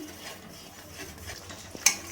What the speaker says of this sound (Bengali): এর জন্য ভালোভাবে নাড়তে হবে, নাহলে নিচে লেগে যেতে পারে কড়াইয়ে। এই জন্য ভালো করে আমি নাড়িয়ে নিচ্ছি।